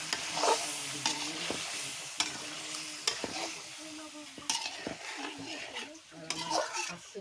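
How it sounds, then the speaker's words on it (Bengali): Fish frying in a pan over a clay stove, with a steady sizzle broken by repeated sharp scrapes and clinks of a utensil stirring against the pan, close and clear. "মাছটা কষাবো দিয়ে দিলাম"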